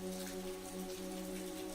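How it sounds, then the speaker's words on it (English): Rain falls outside at night in a steady, even patter of drops on surfaces, continuous and moderately soft, with a faint low hum beneath and no voices. "the rain outside grew heavier"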